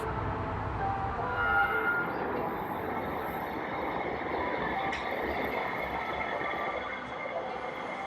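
A light rail train arrives at a station: a steady rumble of wheels and car noise, with a brief higher squeal midway and faint voices in the background.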